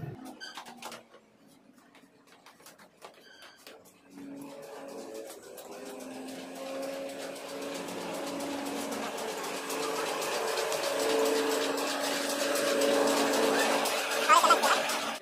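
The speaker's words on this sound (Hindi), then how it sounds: "इसमें 15 एच मोटर चल रहा है 960 सौ आरपीएम का" A solar-powered flour mill driven by a 15 HP, 960 rpm motor gives off a steady mechanical hum with tonal whine that grows louder over time, while people talk nearby.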